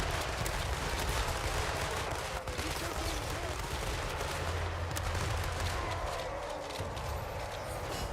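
Blunderbusses in Total War: Warhammer III crackle in a dense, continuous volley of overlapping shots under a low battlefield rumble.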